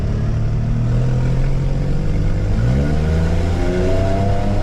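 A Porsche GT4 RS engine revs hard around a race track, pitch climbing steadily through a shift, loud and sustained from inside the car.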